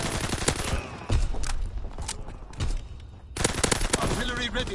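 Bursts of gunfire from the player's weapon in Call of Duty: WWII, loud rapid shots in several clusters separated by short gaps, with game sounds around them.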